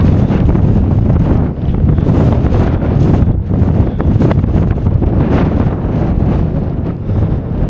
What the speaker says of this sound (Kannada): ಹೆವಿ ಗಾಳಿ.